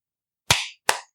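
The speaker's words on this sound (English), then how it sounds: "We're going to clap." Two sharp hand claps at a family home, close and crisp, separated by a short pause after a moment of silence.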